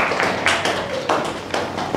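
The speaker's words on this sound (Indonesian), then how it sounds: "Bagus, tepuk tangan." A university class clapping hands together, a brief close burst of rhythmic group applause with pulses recurring about every half second.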